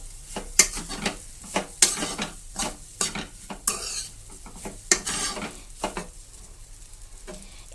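Egg fried rice being stirred in a pan, a spoon scraping and clinking against the metal in an irregular run of sharp strokes over a soft sizzle.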